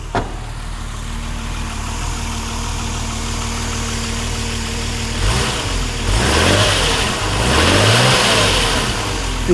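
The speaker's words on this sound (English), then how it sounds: "So we're going to start it up and I'll see if I can balance a pound coin on the engine." A BMW M1's 3.5 litre engine settles into a steady idle after a sharp start, then gives two or three rising and falling throttle blips, loud and close, with no voices.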